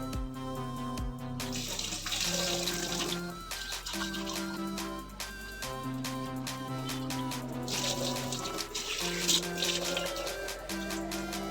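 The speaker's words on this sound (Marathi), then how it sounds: "चला आपण डाळ स्वच्छ धुवून घेऊया" Running tap water splashes steadily into a vessel as lentils are washed, with a tonal hum and occasional sharp clinks throughout.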